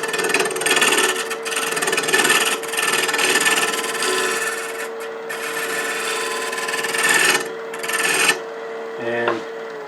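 Hand rounding over the corner of a wooden box piece to form part of a bead, giving a steady rasping, rubbing scrape that runs close and continuous through most of the stretch, with brief pauses and no talk.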